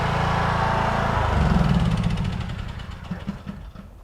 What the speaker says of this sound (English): This tractor can't get that.